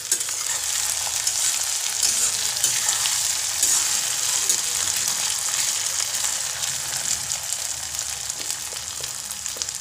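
Garlic chili thecha fries hard in a pan with a loud, dense crackle and sizzle close up. The sound runs unbroken and fairly even throughout, with no speech.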